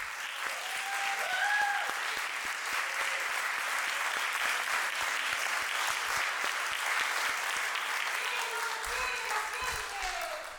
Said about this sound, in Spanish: Gustavo Ruz Zañartu, para quien pido un gran y cariñoso aplauso